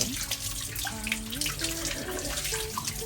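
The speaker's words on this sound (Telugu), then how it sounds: "కొంత నీళ్ళు పోసి" Water pours and splashes continuously at close range over a Baba idol in a temple shrine during abhishekam, with gurgling tones shifting as it flows; faint background voices are present.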